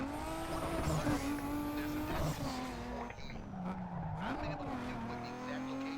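Tire squeal from a car skidding after an early handbrake pull in Need for Speed Underground 2, a sustained screech over a steady engine drone, swooping in pitch partway through, with no talking.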